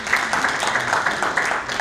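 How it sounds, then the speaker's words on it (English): Clapping from an audience at an investment-promotion talk on investor incentives, a light patter of scattered hands at steady moderate level, fairly distant and thin, with no voices over it. "I think that's something we should all clap for."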